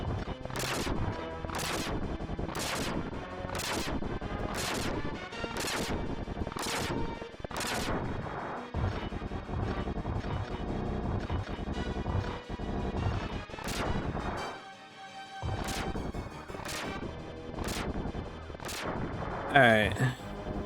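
Gunfire and explosions from the SNES strategy game Metal Marines come as a regular series of loud blasts over continuous game music, with a brief drop near the middle before the bursts resume.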